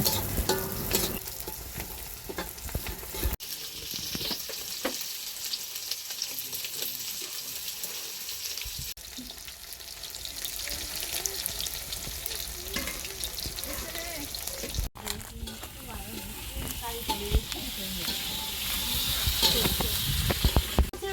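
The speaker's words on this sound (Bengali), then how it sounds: "মুরগি রান্নার জন্য পেঁয়াজ ভাজা হচ্ছে" Onions fry and are stirred in a pan at an outdoor village picnic, preparing the base for a chicken curry: a sustained sizzling hiss with scraping stirs, and faint voices around.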